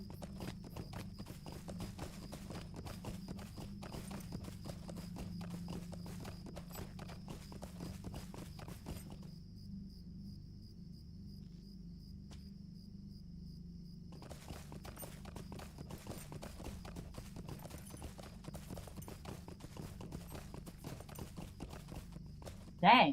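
Horse hooves clip-clopping steadily in the online game LOTRO, a rhythmic walking gait that continues throughout, with a brief pause partway, under faint background sound.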